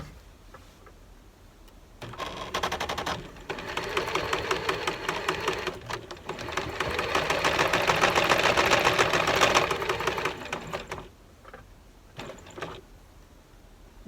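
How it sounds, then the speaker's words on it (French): A sewing machine stitches makeup-remover wipes in steady runs, loud and close, starting after a quiet pause, pausing briefly near the middle, then stopping with a few short bursts toward the end. "Nous allons donc débuter la couture ici"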